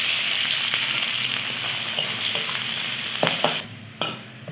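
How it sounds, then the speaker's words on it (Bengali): Sliced onions frying in ghee and white oil in a kadai, a continuous bright sizzle with a few stirring scrapes near the end as the sizzle briefly drops away. "বেরেস্তার জন্য আমি পেঁয়াজ ভেজে নেব।"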